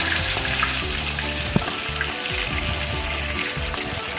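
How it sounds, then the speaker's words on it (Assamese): Fish sizzling in hot oil in a wok, made for a bamboo shoot fish curry, a steady close frying crackle with small pops and faint clinks throughout. "কেৰাহীটোত মই অকণমান বেছিকৈ ফ্ৰাই কৰি লৈছোঁ"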